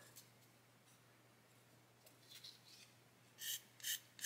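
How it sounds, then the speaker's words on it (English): The smooth side of a sanding stick rubs a plastic Airfix 1/72 Hurricane Mk.1 fuselage part in soft, faint rasping strokes, with a few brief louder scrapes near the end over a low steady hum. "take our sanding stick, and with the smooth side"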